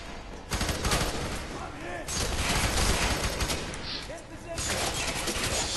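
Repeated shotgun blasts and chaotic gunfire in the first-person shooter F.3.A.R., loud and dense, with talk over the fighting.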